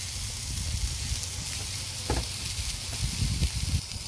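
A burger patty sizzles steadily on a Blackstone griddle, a continuous bright hiss with occasional pops and scraping nearby, loud and alone.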